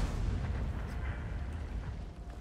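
A tank gun firing in World of Tanks, amid foggy weather on the battlefield, with a deep, sustained low rumble and boom that fills the whole moment and fades only slightly, with no voices over it.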